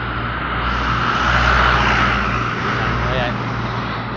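Cars and trucks pass along a road, their engine noise swelling and fading as they go by, with people talking over the traffic.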